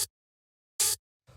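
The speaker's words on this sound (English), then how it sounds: "And then the last thing we have here is this extra open hi-hat," A lone open hi-hat from a deep minimal house track sounds as a bright, hissy hit lasting a fraction of a second, preceded by a tiny click and followed by a fainter tail hit, with silence between and no voices.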